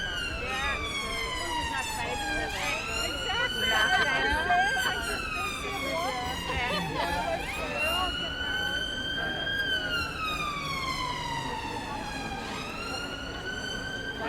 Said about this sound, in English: If you could just make sure the road's clear there for an ambulance getting through.